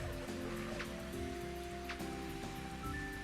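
Steady rain in the Mario Golf handheld video game, a soft continuous pattering hiss with a faint tonal game hum beneath, quiet and unbroken.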